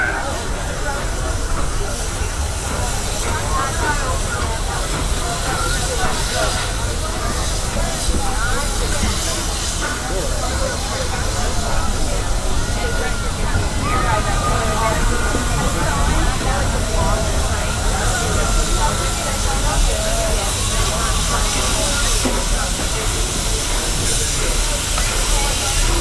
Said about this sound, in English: And I'm still awed by the rocking noise of 475.